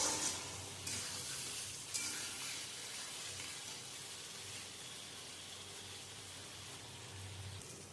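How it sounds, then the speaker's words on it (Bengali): A spice paste with a splash of water sautés in oil for a vegetarian dhoka curry, making a soft, steady sizzle with light crackle and faint scraping, fairly quiet and continuous. "যতক্ষণ না মশলা থেকে তেল ছাড়ছে ততক্ষণ মশলাটাকে কষাবো।"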